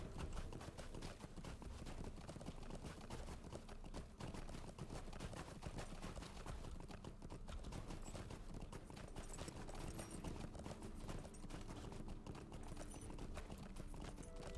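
Horse hooves clip-clop at a steady rapid pace while riding in Lord of the Rings Online, a faint and continuous run of hoofbeats with no pauses.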